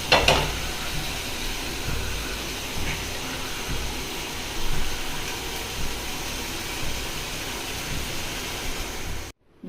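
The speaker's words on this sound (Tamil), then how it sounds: "எண்ணெய் விட்டு இதை வறுத்து கொடுக்குறோம்." Hot oil sizzles in a pan on the stove, a continuous close hiss that holds steady before cutting off abruptly at the end.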